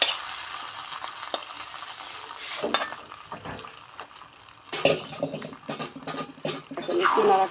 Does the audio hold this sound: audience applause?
no